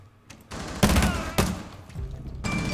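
Pistol gunshots in a Rainbow Six Siege match: a few loud, sharp reports in close succession, with a quieter crack later, over game ambience.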